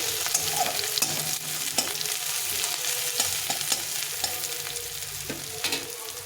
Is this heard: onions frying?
yes